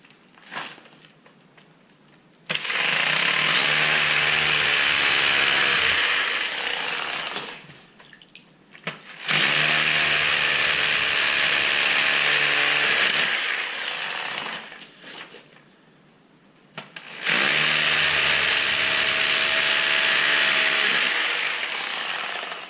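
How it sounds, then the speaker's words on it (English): A hammer drill with a 3/4 inch bit grinds loudly into a concrete basement floor in three long bursts of several seconds each, with short pauses between them. "This is a 3/4 inch hammer drill bit."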